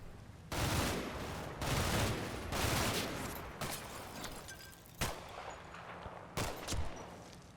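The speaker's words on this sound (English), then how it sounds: "it definitely looks like it's small arms fire" Small arms fire in Combat Mission: Battle for Normandy, several bursts of rapid rifle and machine-gun shots with sharp single cracks between them, moderately distant.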